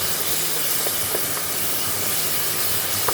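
Steady hissing sizzle of a ground paste of ginger, garlic, green chili and shallots sautéing in oil for Kalan biryani, a continuous close frying noise with no talk.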